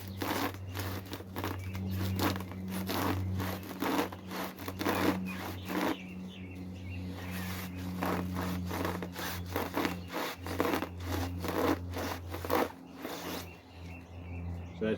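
Dead canes of a dendrobium orchid clump, an Australian native orchid, are cut through. Close, repeated rasping strokes go back and forth in an uneven rhythm, with faint birds in the background.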